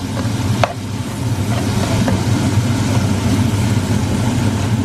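Garlic and sliced onion stirred in a frying pan, with a steady close sizzle and scraping under a low constant hum, one sharper clink of the utensil early on.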